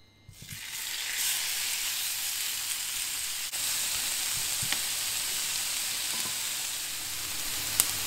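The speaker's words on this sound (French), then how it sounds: "un petit peu de viande que je coupe tout simplement en petits morceaux. Et je vais faire revenir ça à la poêle." Small pieces of meat sizzle in a frying pan, a loud, steady, close hiss that starts as the meat hits the pan and continues unbroken with faint occasional pops and stirring scrapes.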